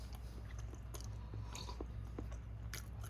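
A dorayaki is bitten and chewed close up, giving soft, quiet mouth sounds and small crunches over a steady low hum, with no talk.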